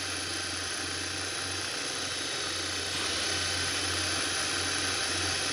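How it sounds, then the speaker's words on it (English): A small rover's engine in the video game Scrap Mechanic drones in a continuous mechanical whir with a steady low hum, growing slightly louder and brighter partway through, alone with no speech. "I have to turn the engine on."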